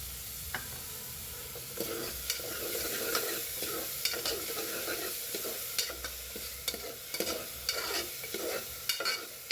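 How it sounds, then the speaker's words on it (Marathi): Onion frying in oil and ghee for a spicy chicken curry, a steady close sizzle with repeated scraping stirs of a spoon against the pan throughout, no talking. "असा या तेलामध्ये, तुपामध्ये आपल्याला गोल्डन ब्राऊन होईपर्यंत फ्राय करून घ्यायचा आहे"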